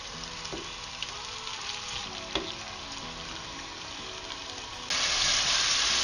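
Chicken for white chicken handi sizzles and fries steadily in a pan, with a few scraping stirs, then the hiss suddenly grows louder near the end.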